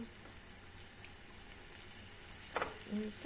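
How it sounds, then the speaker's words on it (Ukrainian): Steady hissing sizzle of flour-coated fish frying in a pan, close by, with a brief louder crackle and a soft clink near the end. "І на сковорідку відправляю"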